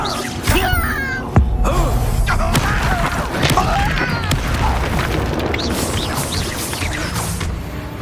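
Bombarda explosion spell in the Hogwarts Legacy video game, a loud sustained blast and crash with booming impacts and debris over a dense game soundscape.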